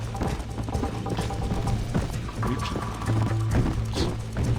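Horse hooves gallop in a steady, driving clip-clop during a horse race in Red Dead Redemption on PC, loud and close, with a musical drone and game sounds layered underneath.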